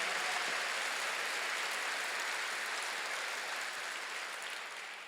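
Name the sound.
church congregation clapping hard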